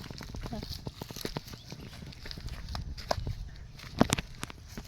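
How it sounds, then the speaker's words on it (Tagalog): A horse walks past on a rural trail, hooves clip-clopping in an uneven rhythm close by, with voices talking over the steps. "Nadadaanan kaming kabayo."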